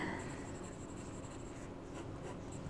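A Jinhao X750 fountain pen with a broad 1.5 Goulet nib scratches steadily across paper, a soft continuous close-up writing sound with no talking.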